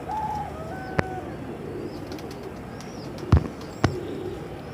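Pigeons at the Multan pigeon market coo softly and chirp over a steady crowded background, with a few sharp clicks and knocks standing out nearby.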